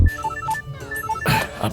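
A phone ringtone plays a short, bright melodic pattern that repeats, sounding close by, with a brief burst of other noise near the end.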